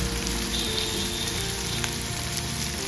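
Small shallots fry with fennel seeds in sesame oil for an ivy gourd stir-fry, producing a loud, continuous crackling sizzle up close with no talking.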